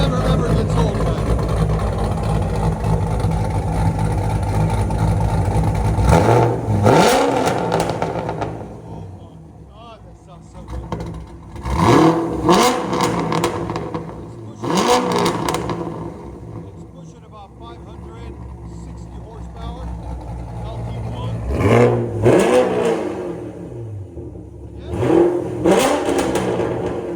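A cammed 560hp Chevy Corvette Stingray with a 6.2L LT1 V8, headers and straight pipes idles with a loping rumble, then revs hard in several sharp bursts that fall back between them, loud and close.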